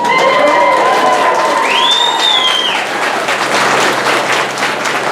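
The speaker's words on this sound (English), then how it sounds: "Crowd goes wild." Wedding guests break into loud, sustained applause and cheering right after the newly married couple kiss. There are whoops and a rising shout above the steady clapping of the crowd.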